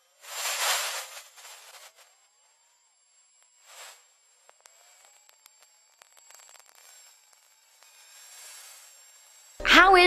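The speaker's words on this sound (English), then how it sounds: "It's a sound of hot ionized particles generated by sunlight crashing into the atmosphere." NASA Polar spacecraft recording of Earth's hiss from ionized particles, rendered as sound: breath-like bursts of airy broadband hiss separated by near silence and faint clicks, ending in a sudden loud burst.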